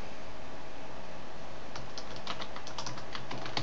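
A computer keyboard clatters as someone types a router port-forwarding entry, first a quiet hum, then a quick run of close, crisp keystrokes in the second half.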